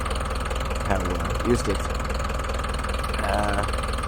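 A Lovol 504 tractor engine idling after a cold start in winter, a steady, knocking mid-pitched diesel rumble running close and continuous, while someone speaks briefly over it.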